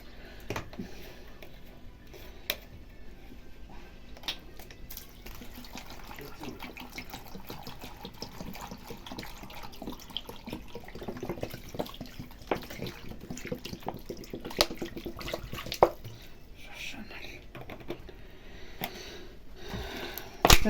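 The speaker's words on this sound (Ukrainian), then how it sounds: "заливаю, щоб покрило оцтом" Vinegar pours steadily over homemade herring made from silver carp, a soft continuous liquid wash that stays faint and close throughout.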